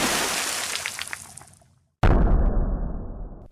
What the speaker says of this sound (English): There was a splat, crack, and a splash.